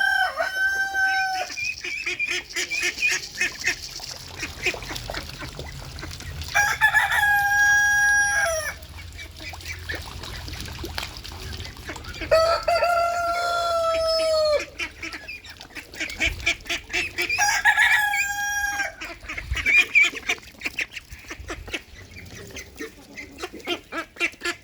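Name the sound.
ducks being fed mealworms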